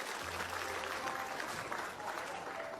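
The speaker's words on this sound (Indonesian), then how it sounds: "tepuk tangan dulu." Studio audience applause during an Indonesian comedy talk show about illegal street racing, a steady wash of clapping sustained for about three seconds with faint voices underneath.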